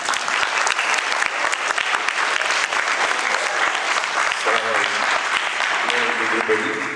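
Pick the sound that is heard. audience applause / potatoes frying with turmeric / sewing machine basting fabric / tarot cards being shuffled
audience applause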